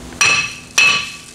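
A big hammer strikes a Pontiac Vibe brake rotor twice about half a second apart, each hit a loud, close ringing clang that decays slowly.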